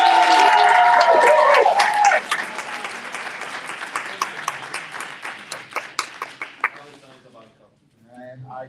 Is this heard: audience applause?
yes